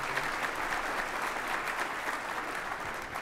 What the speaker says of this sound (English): give a round of applause for our group